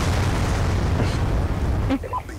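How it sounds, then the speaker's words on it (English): A big explosion in the video game Black Ops 2, a loud sustained rumbling blast filling the clip and dropping off near the end, with a brief crack afterwards. "I just like see a big explosion and ouch."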